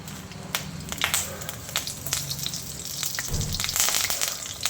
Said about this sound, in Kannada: ಇವಾಗ ಇದಕ್ಕೆ ನಾವು ಮೀಡಿಯಮ್ ಫ್ಲೇಮಲ್ಲಿ ಇಟ್ಕೊಂಡು ಮೆಣಸಿನ್ಕಾಯಿ ಹಾಕೊಳ್ಳೋಣ ಮತ್ತು ಕರಿಬೇವು